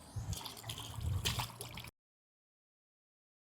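Clothes being rinsed by hand in water during a Chennai to Tirupati pilgrimage walk: close splashing, sloshing and trickling for about two seconds, then sudden silence before a brief return at the end.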